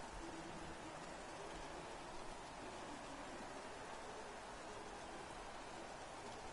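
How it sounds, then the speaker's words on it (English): Heavy rain during a race in F1 2017 on PS4 forms a steady, dense hiss of broadband noise, constant and loud throughout with no talking. "My lord, it's raining like"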